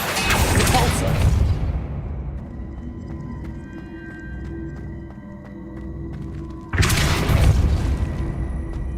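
Two forceful blasts of the Depulso spell in Hogwarts Legacy, each a loud booming whoosh with a decaying tail, separated by a quieter stretch of low rumble and faint ringing tones.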